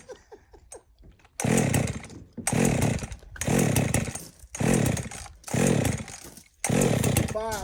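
A chainsaw revs in repeated loud bursts of about a second each, separated by short pauses, after a brief stretch of lower sounds at the start.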